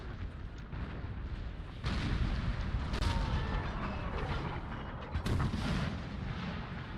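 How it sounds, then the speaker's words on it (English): Cannon fire rumbles through a Napoleonic-era battle in Napoleon: Total War's American Civil War mod, with heavy booms near 2, 3 and 5 seconds over a continuous roar of distant gunfire and battlefield noise. "Beautiful cannon fire going out."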